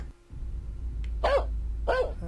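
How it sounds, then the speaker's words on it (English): Dog barking in the horror video game Shadows Peak, two distinct barks about half a second apart over a steady low ambient rumble. "I'm hearing a dog bark, dude."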